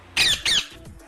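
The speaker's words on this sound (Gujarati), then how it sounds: "આ કયું પક્ષી છે? પોપટ. અંગ્રેજીમાં પેરટ." Parrot giving two sharp, raspy squawks in quick succession, loud and close, followed by a softer trailing call, with no voices.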